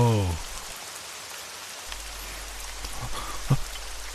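Rain falls steadily outdoors in a soft, even hiss, with a few louder drops and a faint thump near the end.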